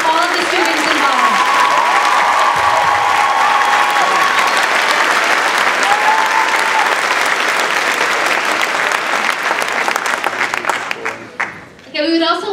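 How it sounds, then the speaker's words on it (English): Sustained applause from a high school theater audience after a Les Misérables production, a dense, loud wash of clapping that holds for about ten seconds before thinning and fading out. "So let's have a round of applause for all of the students involved."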